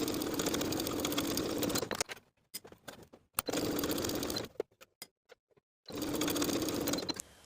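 A sewing machine stitches the shoulder seams of a cardigan in three bursts of fast, even whirring, each separated by pauses with small clicks and handling noises.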